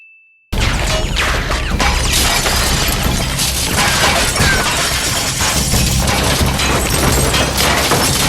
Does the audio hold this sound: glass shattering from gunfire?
yes